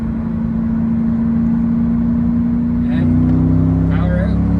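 A 1999 Camaro SS drones steadily at speed, heard from inside the car; partway through the pitch shifts as it drops into third gear and keeps pulling. Someone talks over the engine.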